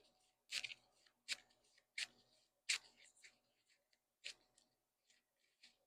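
A deck of cards for the Marvel Champions card game shuffled by hand, a quiet series of crisp riffling snaps and taps at an uneven rhythm, close and soft, with short silent gaps between them.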